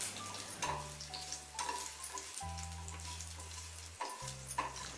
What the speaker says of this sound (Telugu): అందులోనే ఎండుమిర్చిని తుంచి వేసుకోవాలి. ఇప్పుడు కరివేపాకు వేయండి. మీడియం ఫ్లేమ్లో పెట్టి 1 నిమిషం పాటు బాగా వేపాలి.